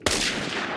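A single sharp gunshot from the Phantom Forces shooter game cracks loudly up close, then rings out with a short decaying tail.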